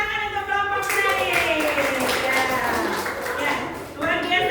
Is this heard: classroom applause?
yes